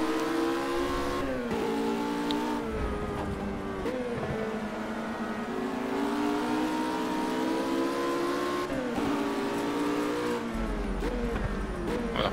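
A RUF RGT-8 race car engine in the Project Cars racing game drones steadily at high revs, with pitch dips at gear shifts and a clear wail throughout.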